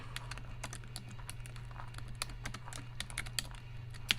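Rapid typing on a computer keyboard, a dense stream of light key clicks at close range over a faint low hum.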